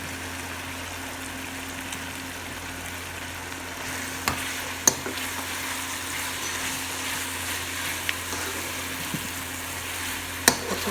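Fried okra is stirred through masala in a pan, giving a soft continuous sizzle with occasional sharp clicks and scrapes of the spoon against the pan.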